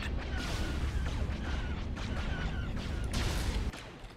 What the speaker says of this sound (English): Targeting at maximum firepower. Cannons charged.